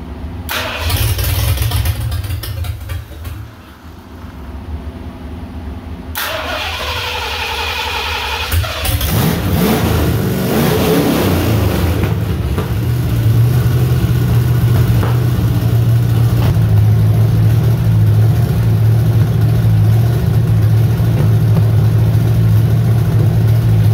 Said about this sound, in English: I had to play with the timing a little bit to get it to fire up, but that alternator is working great. The engine's running great now.